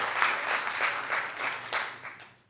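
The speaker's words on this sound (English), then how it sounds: "So one more round of applause for the family behind you." Audience at a youth job-training program graduation ceremony applauds for the graduates' families, a short burst of clapping that fades out near the end, with no voices over it.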